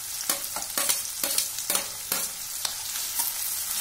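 Tomatoes go into a frying pan over softened onions and are stirred, giving a steady sizzle with a series of regular scraping stirs, close and fairly quiet, with no talking.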